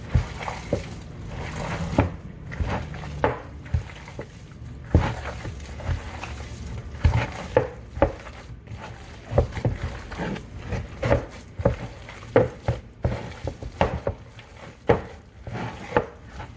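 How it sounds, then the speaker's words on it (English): Meatball ingredients for chanko being mixed by hand in a bowl, close squishing and irregular slapping thuds that keep on throughout. "Got all the ingredients, mix them all together."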